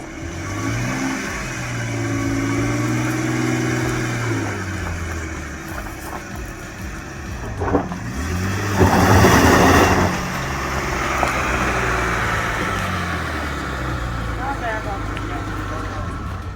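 A 1998 Isuzu Amigo 4x4 on oversized tires revs hard with the parking brake on in a burnout attempt, its engine rising and falling in repeated surges, with a louder burst partway through, while someone talks over it.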